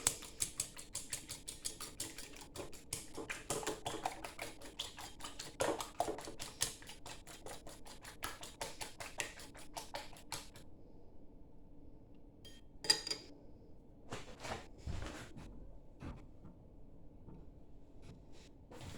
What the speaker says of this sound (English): Pop 2 eggs in there. Give that a whisk.